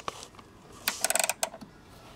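A 3/8 inch ratchet on a long extension and half inch socket, loosening a battery clamp on a Chevy Blazer or GMC Jimmy, gives a quick burst of close, quiet ratcheting clicks.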